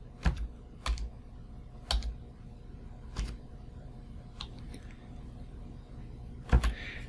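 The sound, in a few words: typing a command on a computer keyboard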